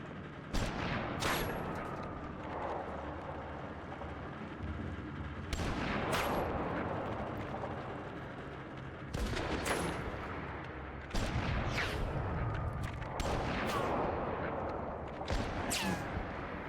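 Sniper rifle shots in a horror video game ring out in repeated loud cracks, roughly every few seconds, each a sharp broadband burst over a constant rumbling game backdrop, with no voices.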